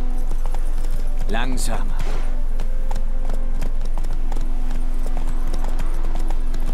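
Hooves of the horse Roach clip-clopping in The Witcher 3, a run of steady hoofbeats under someone speaking German over a continuous game soundtrack, with a brief whinny-like sweep near the start.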